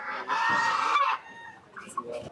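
Local desi chickens and roosters cluck and squawk at a busy market, a burst of loud close calls followed by scattered softer clucks, with some background noise around them.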